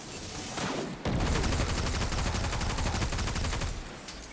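Rapid automatic rifle fire in Destiny 2, a sustained burst of dense, evenly spaced shots that starts after a brief lull and rattles on loud and close for several seconds, with no talking.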